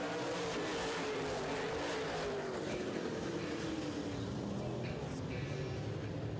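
Big FM Modified race cars thunder around an oval track under green flag, a dense distant roar of many engines blending together with a revving tone rising and falling, steady and loud throughout.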